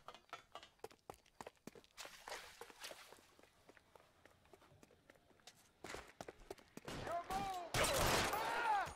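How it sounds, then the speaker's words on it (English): Scattered gunshots crack through a street shootout in L.A. Noire, swelling into a denser, louder volley near the end, with hurried footsteps and a voice talking over the action. "What are you shooting at?"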